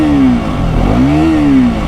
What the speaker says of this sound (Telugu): ఎగ్జాస్ట్ సౌండ్ కూడా బాగుందన్నమాట